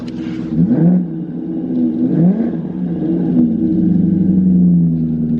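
V8-powered BMW E34 sedan revving in the city, three quick throttle blips rising and falling in pitch, then a sustained higher rev that settles, close-up and loud, with no one speaking.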